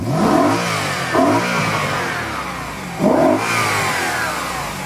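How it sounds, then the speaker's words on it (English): A BMW M3 engine revs hard three times in a row, each surge rising in pitch over a steady loud running drone, with no voices. "Let's hear it from the engine itself now."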